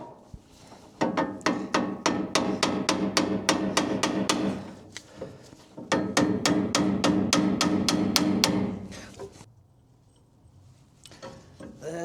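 Rapid metallic hammer taps on the castle nut of an axle on a 1958 Willys DJ-3A, two fast bursts of ringing strikes separated by a brief pause, close and loud, then quiet.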